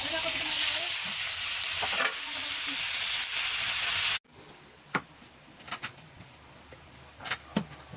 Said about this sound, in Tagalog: Gigisahin muna natin